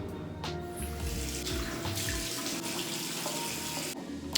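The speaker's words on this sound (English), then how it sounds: "I'm just going to rinse it off" Tap water runs steadily into a sink as a face is rinsed, with soft splashing and a continuous close rushing sound, no talking.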